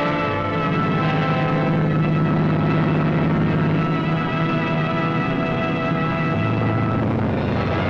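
WWII transport aircraft carrying airborne troops to a 1945 assault near Xanten, a continuous loud propeller engine drone that holds steady throughout, with no voices.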